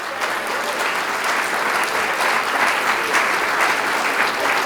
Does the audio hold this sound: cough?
no